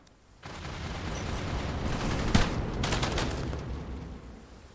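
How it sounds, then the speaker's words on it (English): A carpet-bombing airstrike in the zombie strategy game Cepheus Protocol, pandemic mode: a dense, rumbling barrage of overlapping blasts and crackling detonations rolls on for several seconds, then slowly fades. "We can start airstriking. Clear the area. Carpet bomb incoming."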